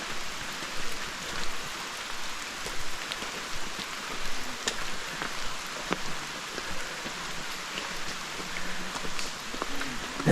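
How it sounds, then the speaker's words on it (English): Steady rain falls on forest trail foliage on the hike to Manoa Falls in Hawaii, a dense hiss with scattered close drips throughout. "And it's also raining, so it's raining."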